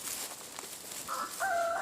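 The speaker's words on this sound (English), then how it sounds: "There's one of our barred rocks." Barred Rock chickens free-ranging on rural land, with a rooster nearby, giving a few close clucks and a short crow-like call near the end, heard alone with no talking.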